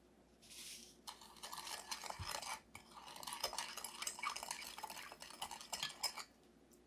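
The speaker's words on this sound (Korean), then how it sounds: "식초, 소금을 넣고 섞어줍니다." Utensils scrape and clink steadily around a bowl as vinegar and salt seasoning is stirred, a continuous mixing sound close by with no voices.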